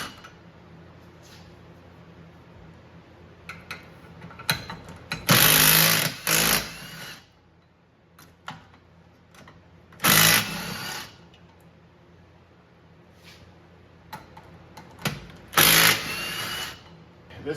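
An impact gun removes the rear wheel bearing bolts on a 2008-2013 Toyota Highlander, firing three loud, rattling bursts of a few seconds each, separated by quieter gaps of faint shop noise.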